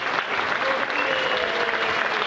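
A crowd at the World Games three-cushion billiards final applauds a gold medal win with a sustained, even burst of clapping, while a voice talks faintly underneath.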